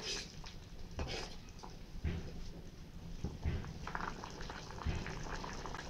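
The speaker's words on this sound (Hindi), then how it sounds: "अब हमारे चावल खौल गए हैं।" Rice for masala rice boils in a covered pot, a soft, steady bubbling broken by a few louder knocks and clinks of the pot, with no talking.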